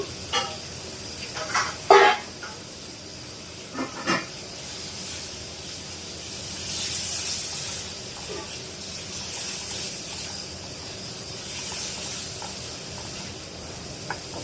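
Dried loitta fish frying in oil with chili and turmeric gives a soft sizzle and hiss, with a few sharp clinks of stirring early on and quiet background noise.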